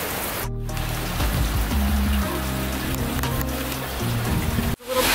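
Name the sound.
heavy rain downpour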